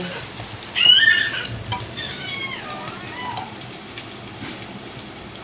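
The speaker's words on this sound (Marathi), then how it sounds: "असा छान बटाटा मी तेलामध्ये परतवून घेते" Diced potatoes sauté in hot oil for sabudana khichdi, giving a steady, close frying hiss and sizzle with faint tonal squeaks over it.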